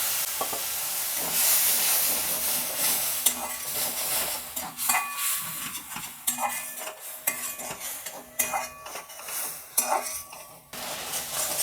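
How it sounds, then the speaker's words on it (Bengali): Spice paste fries in a pan with a little water, giving a close sizzle and hiss with frequent metallic scrapes and clinks of a spoon stirring against the pan. "এবারে আমি মশলাটাকে ভালো করে একটু কষিয়ে নেব। একটু সামান্য পরিমাণ জল দিয়ে দেব, যাতে মশলাটা পুড়ে না ওঠে।"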